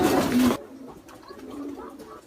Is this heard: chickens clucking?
no